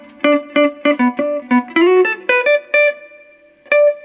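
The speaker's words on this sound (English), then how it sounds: "See, this is more like a spring reverb." Electric guitar notes and chords played through a spring reverb effect, a series of plucked, sustained tones with a ringing, slightly splashy tail, fairly loud and alone.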